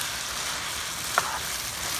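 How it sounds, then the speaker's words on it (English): Sausage, garlic, onions and bell peppers frying in a pan for sausage spaghetti make a continuous soft hiss of sizzling, with one brief louder spit midway and no voices. "I'm gonna cook this, I'm gonna fry it"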